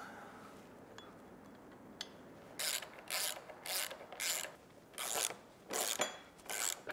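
A nut is tightened with a ratcheting tool while a gate clip is fitted to a MIMsafe New Era gate and wall kit: several close, rhythmic bursts of ratchet clicking, separated by short pauses, over a quiet background.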